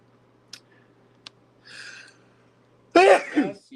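A single sharp sneeze bursts out near the mic after a few faint clicks and a soft rustle, loud and close in an otherwise quiet room.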